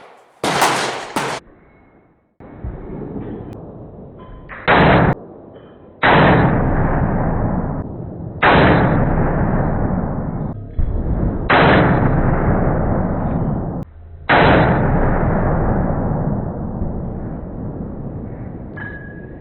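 Pistol shots from a .40 S&W firing 170-grain powder-coated cast bullets over 5.9 grains of Alliant Power Pistol powder, about seven sharp loud reports spaced a couple of seconds apart, each with a long ringing outdoor decay.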